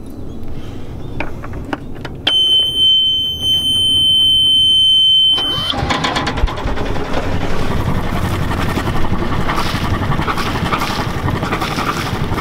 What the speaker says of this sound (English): I'm gonna go ahead and fire up the engine and see what comes out the exhaust.